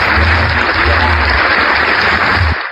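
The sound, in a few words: audience applause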